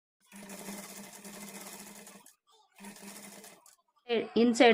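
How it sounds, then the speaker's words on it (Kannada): A sewing machine stitches the folded hemming edge of a blouse neck in two steady whirring runs with a short pause between, and a voice briefly speaks after the second run. "ಈ ಥರ ಎಲ್ಲ ಕಡೆಯೂ ಈಕ್ವಲ್ ಆಗಿ ಫೋಲ್ಡ್ ಮಾಡಿಕೊಂಡು ಎಡ್ಜ್ಗೆ ಕಿನಾರಿ ಸ್ಟಿಚ್ ಹಾಕ್ಕೊಳ್ತಾ ಬರಬೇಕು"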